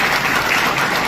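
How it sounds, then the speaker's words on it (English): A steady, dense wash of audience applause honouring a World War II veteran with three Purple Hearts at a Pearl Harbor Day gathering, loud and even throughout with no talking over it. "So let's give him another round of applause."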